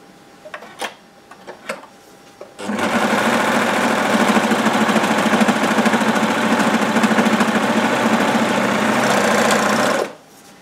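A sewing machine stitches a bottom hem band, starting after a few light clicks and then running loud, steady and fast for about seven seconds before stopping abruptly.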